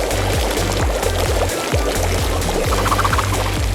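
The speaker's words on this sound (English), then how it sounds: "All we gotta do is put it in hot water." Hot water from a kettle pours in a steady, close stream, with a repeating low thumping pattern running underneath throughout.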